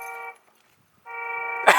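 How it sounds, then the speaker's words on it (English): A cheap Power Wheels ride-on toy cart sounds its electronic horn twice, thin buzzy toots separated by a short pause, the second cut off by a sharp noise. "It's so laggy, I press it like half a second later it honks."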